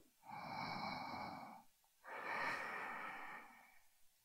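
Two long, slow breaths during a vinyasa yoga practice, each a soft airy inhale or exhale lasting about a second and a half, close to the microphone in a quiet room with no talking.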